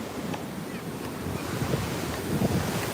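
Ocean waves wash onto a beach in a continuous roaring surf, mixed with gusty wind buffeting the microphone, loud and close throughout.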